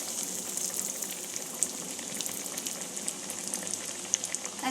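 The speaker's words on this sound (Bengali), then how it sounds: "চপগুলো এক এক করে আমি ভেজে নেব।" Banana flower chops deep frying one at a time in hot oil over a medium-low gas flame, a steady dense sizzle and bubbling crackle throughout with small pops, close and alone.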